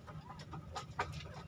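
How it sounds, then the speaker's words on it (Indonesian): Soft, faint clucking from a hen in the background on a chicken farm, several short notes spread over a low steady hum. "Ada suara babon di belakang."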